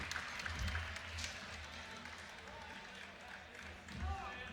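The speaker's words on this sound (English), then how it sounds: "Standing O from the hometown crowd." A hometown high school boys basketball crowd gives a standing ovation as seniors are brought out, moderate scattered clapping and crowd noise heard at some distance under an announcer's voice.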